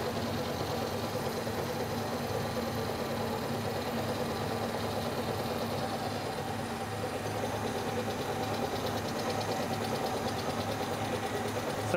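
A machine planing the surface of a steel mold block with coolant running runs as a steady, continuous mechanical drone with a faint rhythmic grinding texture, constant in loudness for the whole stretch with no voices.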